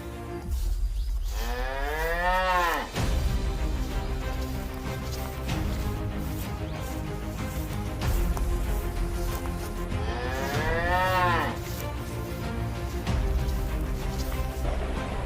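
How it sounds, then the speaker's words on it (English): A black and white dairy cow grazing in a green valley gives two long, loud, near moos, one early and one later, over steady background sound, with no one talking. "a black and white dairy cow is leisurely grazing."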